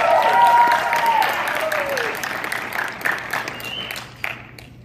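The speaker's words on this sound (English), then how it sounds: "So, round of applause for Isaiah McInnes Cologne." Audience applause for a high school dramatic interpretation competitor. Steady, dense clapping starts loud and slowly thins out over several seconds, with voices speaking over it.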